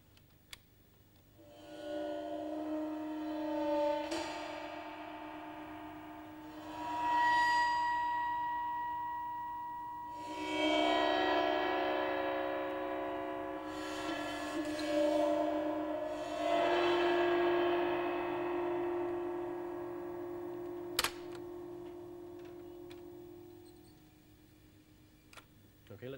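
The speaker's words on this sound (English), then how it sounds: "I shall make some sounds on the cymbal with a violin bow" A cymbal bowed with a violin bow and recorded on tape gives several long, shimmering metallic drones that swell and fade one after another, with a brief click near the end.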